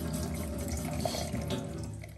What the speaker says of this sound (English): Cold water again to set it.